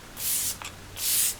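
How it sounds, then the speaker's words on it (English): Two quick bursts of makeup setting spray misted from a close-held bottle, each a soft hissing puff about half a second long with a brief pause between, heard alone. "Last layer setting spray."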